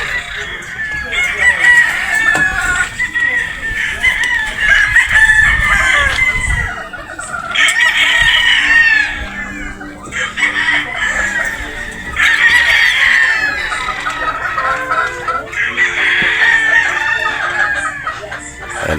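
Game fowl roosters on a farm in Batangas crow loudly and repeatedly in long overlapping calls, with clucking between them and faint background noise.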